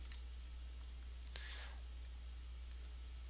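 A single faint, sharp computer mouse click sounds over a quiet, steady electrical hum, with nothing else around it.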